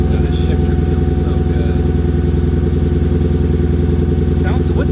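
A car sits idling with its exhaust rumbling in a steady low, even throb. The engine is close and loud throughout, with a faint voice and light clatter in the background.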